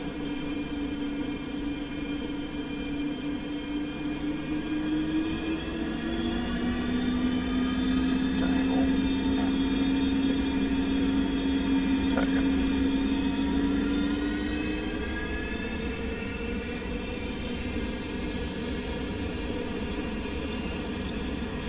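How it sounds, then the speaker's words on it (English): Boeing 737 flight simulator jet engines spooling up to takeoff thrust: a steady, loud roaring hiss with a whine that climbs in pitch and holds, continuous throughout with no talking. "take off thrust set."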